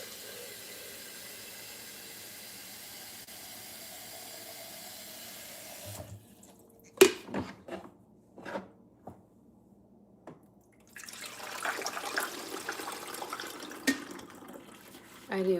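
Water runs from a kitchen tap to fill a carafe for drip coffee, a steady stream for several seconds, then some clunks and drips, then the flow starts again, loud and close.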